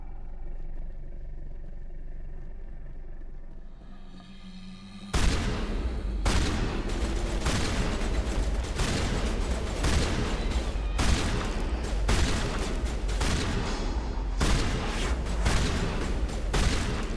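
Shotguns fire in the video game Mass Effect, a rapid series of loud, booming blasts in an uneven rhythm over a constant background rumble, with no talking.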